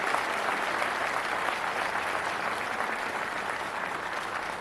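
An audience at a formal event applauds, a dense, even wash of many hands clapping at steady loudness throughout, with faint voices underneath.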